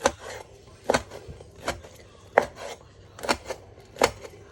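Pork being chopped on a cutting board for nam tok, with sharp knife strikes landing in a loose, irregular rhythm of about seven cuts, close and distinct over a quiet background.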